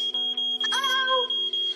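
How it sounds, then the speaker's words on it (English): A steady high-pitched alarm tone beeps in a pulsing pattern throughout, with a brief cat-like cry or voice rising over it in the middle. "Oh, here we go again. It's the alarm."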